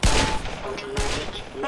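Gunfire in the Black Mesa video game: a loud close shot at the start and a second sharp report about a second later, each with a short ringing tail over a steady game background.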